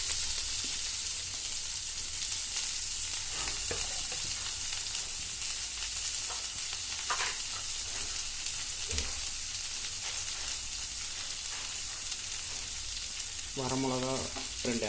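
Chopped onion and curry leaves frying in a pan for tomato onion chutney, a loud, steady sizzle with occasional stirring clicks and scrapes throughout, and a brief rattling knock near the end.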